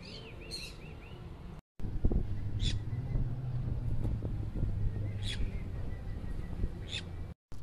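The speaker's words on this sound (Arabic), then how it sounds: "وتستمتعوا كمان هنا بمنظر وصوت العصافير" Short bird chirps ring out every few seconds, bright and fairly distant, over a steady bed of outdoor wind noise and low rumble, at a seaside spot in Jeddah.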